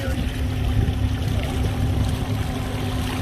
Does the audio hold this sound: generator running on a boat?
yes